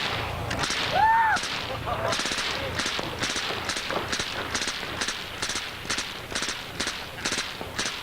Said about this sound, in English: Same gun with a suppressor.